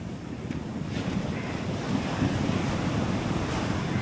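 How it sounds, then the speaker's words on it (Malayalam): Seawater rushes over the broken stones of a collapsed coastal sea wall, a steady, loud wash of surf mixed with strong wind buffeting the microphone, with no speech. "കടൽ വെള്ളമാണ് ഈ ഒഴുകി പോണത് കേട്ടോ"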